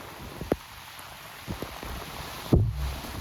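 Heavy rain pours down in a steady broadband hiss, with a few louder thumps and splashes landing nearby.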